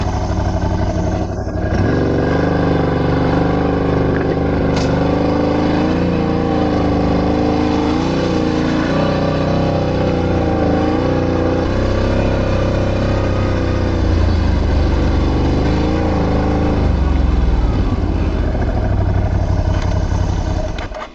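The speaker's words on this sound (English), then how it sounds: "We'll drive past these fields now." Car engine driving steadily past fields on a rural road on a trip to gather mushrooms, a continuous loud drone with shifting engine tones and no talk.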